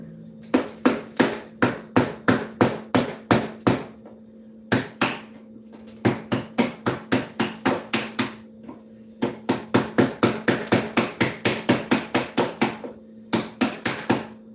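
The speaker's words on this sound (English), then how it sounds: "Nothing like a good old hack knife and a hammer to get you through your day." A hammer strikes glass being broken up for stained glass work, with dense runs of sharp repeated blows in quick bursts, separated by brief pauses, close and loud.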